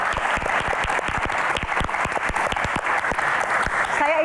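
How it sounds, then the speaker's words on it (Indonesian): An audience applauds at a live Q&A event for Sumatra Never Walk Alone, the claps dense and steady throughout with a few sharper individual claps standing out near the front. "Tepuk tangan untuk Sumatera."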